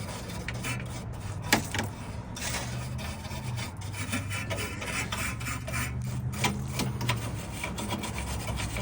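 A rusty, frozen car hood latch being scrubbed with steady scratchy rasping strokes, close up and continuous with a few sharper clicks, under a low background hum and with no speech.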